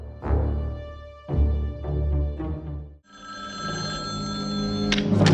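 Old telephone bell ringing in a film scene, a few loud close rings with short gaps, then a sustained higher electronic-sounding ring toward the end.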